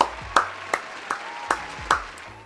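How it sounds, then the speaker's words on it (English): A small round of applause for the Golden State Warriors players: about six sharp, separate claps spaced roughly evenly, close and dry, with quiet gaps between them and no talking. "Let's give a round of applause for the boys."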